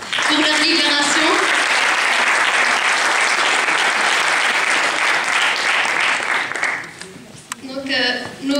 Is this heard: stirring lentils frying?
no